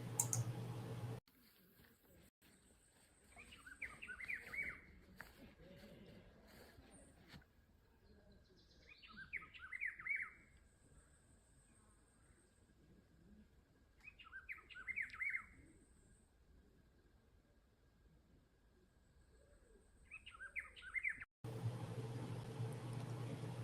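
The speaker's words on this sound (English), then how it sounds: "There's a frequency in the bird song, and I want you to have the opportunity to experience a taste of it too." Birds sing in short, bright chirping bursts that repeat about every five seconds, fairly faint against a quiet background with a few soft clicks.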